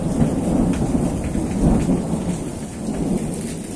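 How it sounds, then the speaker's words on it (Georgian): Steady heavy rain pours down through a summer thunderstorm while deep thunder rumbles rise and swell beneath it, continuous and fairly loud throughout. "ესე უშუქობა წვიმის დროს არ მიყვარს."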